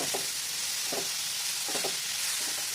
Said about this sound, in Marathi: आता हे कोट केलेली जी कैरी आपण तयार केली होती ती घेऊया छान मिनिटभर परतून घेऊया